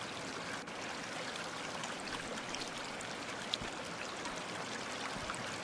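In the Inunaki Tunnel horror game, water flows in a constant gurgling stream, evenly loud throughout, with one faint click partway through and no voices.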